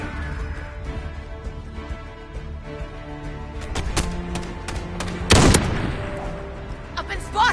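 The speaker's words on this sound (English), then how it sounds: "What's all that shooting?" Online gunfire in Call of Duty: Modern Warfare, with scattered distant shots over steady game ambience and one louder, sharper burst of fire near the end.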